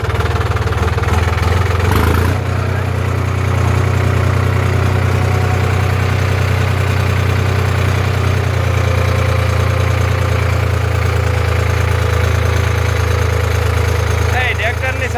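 A tractor engine idles close by with a steady, throbbing low rumble and a brief louder knock near the start, running continuously with no voices over it.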